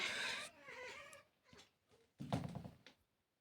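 A cat makes rapid chattering, chirping noises up close, in a few short bursts separated by brief pauses.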